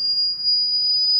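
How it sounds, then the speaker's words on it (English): A smoke alarm going off in a home where food has caught fire, a steady, piercing high-pitched electronic tone held continuously and loud, with no speech. "The alarm, go shut it off!"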